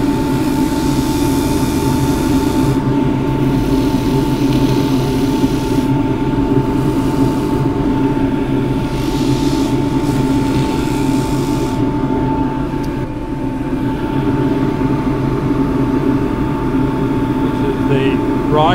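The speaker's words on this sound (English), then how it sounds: "This is 400 with the rotary sander." A rotary sander with 400-grit paper works tough birdseye Huon pine on a lathe, making a loud, unbroken whirring drone with a fixed whine that holds steady throughout.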